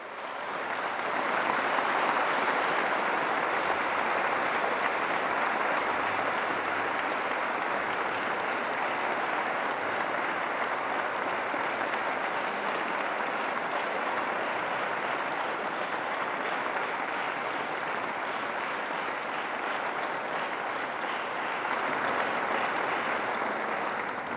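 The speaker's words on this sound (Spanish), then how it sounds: "pido un gran aplauso para un orgullo de la América Latina, Ricardo Lagos Escobar" Sustained, loud applause from a large audience at a university lecture honoring Ricardo Lagos, the Cátedra Julio Cortázar, a dense steady clapping that fills the whole stretch without pause.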